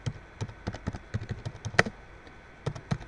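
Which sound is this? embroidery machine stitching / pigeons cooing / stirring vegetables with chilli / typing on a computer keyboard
typing on a computer keyboard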